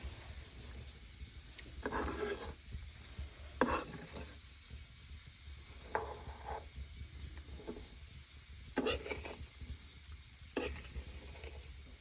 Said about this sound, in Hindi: अब इसको हम पका रहे हैं थोड़ा अच्छे से